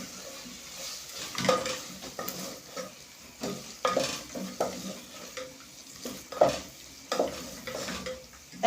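Tomatoes fry in a pot for a Kenyan beef and rice meal while being mixed. Repeated utensil scrapes and knocks ring against the pot over a steady sizzle, close and fairly loud.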